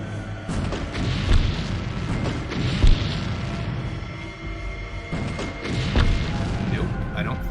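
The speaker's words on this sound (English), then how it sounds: "I don't know if the explosions will actually go through enough to hit him." Explosions in the strategy video game XCOM Apocalypse: a dense, continuous rumble of booms and crashes with two sharper, heavier thuds standing out near the start.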